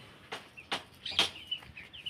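Roosters kept for fighting give several short, sharp clucks and chirps at a moderate distance, spaced irregularly across a couple of seconds with quiet gaps between.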